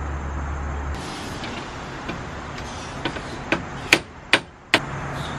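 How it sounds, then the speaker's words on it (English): Impact screwdriver struck with a hammer to loosen car door actuator screws, with several sharp metallic blows landing in the second half over a low background hum, the last few loud and close. "in order to get the mechanism out, we're going to use what's called an impact screwdriver"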